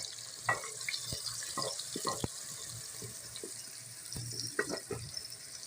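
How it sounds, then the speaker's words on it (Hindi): Chopped onions frying in four spoonfuls of hot oil in a pan, a steady soft sizzle with brief stirring clatters and scrapes scattered throughout, close and moderately quiet. "अब हम इसमें प्याज की भुनाई करेंगे।"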